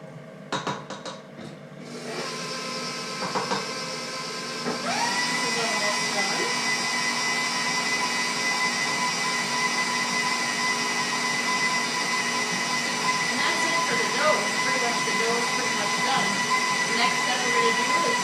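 A few clattering knocks give way to an electric stand mixer whirring steadily as it mixes cinnamon roll dough in a bowl, the motor note rising and settling into a loud, continuous hum.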